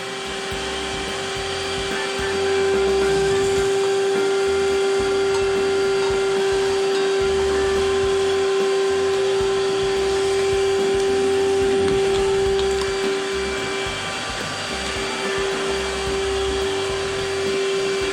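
A vacuum cleaner runs continuously at close range, a loud steady whine with a strong constant tone over a rumbling airflow, swelling slightly as it works during a small DIY truck camper build.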